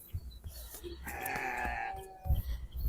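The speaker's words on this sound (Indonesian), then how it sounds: "Nah ini kambingnya juga bisa kita lihat nih. Kambing di sini besar-besar." Goats bleat in a large-breed pen at a livestock market in Jakarta selling premium sacrificial animals for Qurban. A single clear bleat rises midway through the clip and is held for about a second, over a low murmur of background noise.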